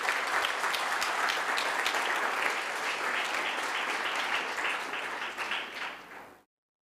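Delegates at the MAU 2023 assembly of heads of state break into loud, dense applause that fills the room evenly for several seconds, then cuts off abruptly.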